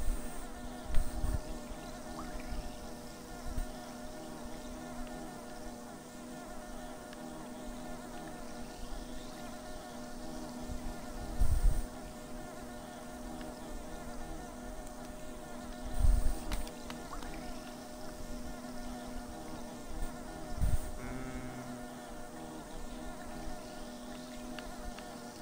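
Buzzing of bees in the bee kingdom area of the video game Hollow Knight, a continuous droning hum with a few low thumps, moderately loud and without talk.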